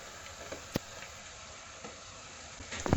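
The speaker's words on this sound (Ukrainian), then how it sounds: "закидаємо цибулю, обсмажуємо до золотої скоринки" Onions frying in oil until golden, a steady broadband sizzle with a few soft clicks of stirring, close and continuous throughout.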